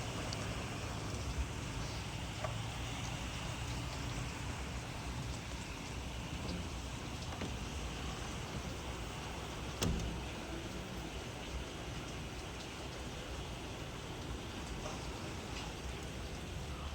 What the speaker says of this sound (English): There's so much rain.